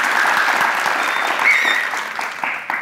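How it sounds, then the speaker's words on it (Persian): A studio audience at a Family Feud–style game show claps steadily and loudly. The applause forms a dense, continuous wash that fades slightly toward the end, with only faint voices beneath it. "تشویق کنید"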